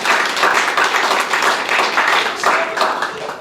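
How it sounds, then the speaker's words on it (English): An audience at a live magic show breaks into a sustained round of applause, dense steady clapping that holds loud for the whole stretch and tapers slightly at the end, with no speech over it. "you will get a large round of applause"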